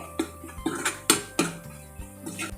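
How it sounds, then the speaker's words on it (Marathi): Fenugreek greens being stir-fried in an uncovered pan, with a utensil clanking and scraping against the metal in several sharp knocks amid a faint background sizzle, close by with no talking. "झाकण न ठेवता ही मी भाजी परतवून परतवून अशी करणार आहे"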